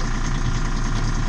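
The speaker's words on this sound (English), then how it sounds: "You'll hear the motor wind down." A boat motor aboard a moored sailboat runs steadily with a low droning hum and rumble, close and continuous with no talk over it.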